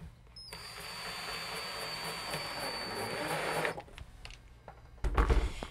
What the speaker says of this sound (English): I'm using 2-inch wood screws, and I'm going to screw these in at an angle to attach this to the joist.